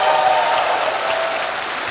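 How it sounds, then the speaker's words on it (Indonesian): An audience at a stand-up comedy show claps with a dense, even patter. The applause is loud at first and eases slightly over two seconds, with no voices on top. "Tepuk tangan semuanya."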